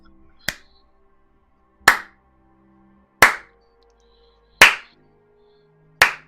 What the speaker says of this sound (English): he claps slowly.